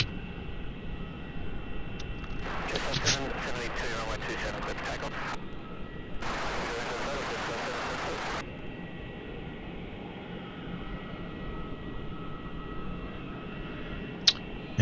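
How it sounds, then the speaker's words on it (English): A Jetstar passenger jet taking off from runway 27 at Melbourne Airport, a steady distant engine roar with two louder broadband bursts of thrust noise, faint throughout and heard from a distance. "And it's like Delta's waiting for Jetstar to take off from 27."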